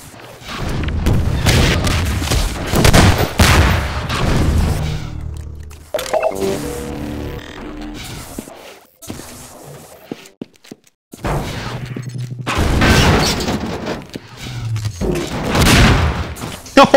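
Gunfire bursts in a Half-Life 2: Deathmatch 1v1 match: repeated loud, sharp shots and booming blasts in clusters, separated by quieter gaps, with some talking mixed in.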